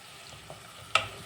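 Onions frying in oil for rajma give a faint, low sizzle, broken by a couple of small crackling pops, one sharper than the other.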